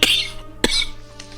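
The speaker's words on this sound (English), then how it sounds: "This cough comes mostly when I'm speaking" Two sharp, loud coughs from a man streaming a Divinity: Original Sin II game session, evenly spaced about half a second apart, followed by a fainter third burst over quiet game music.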